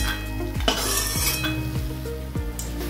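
Bori, small lentil dumplings, fry in hot oil with a soft sizzle while a spoon stirs and clinks against the pan in a rough, repeating rhythm over a steady background tone.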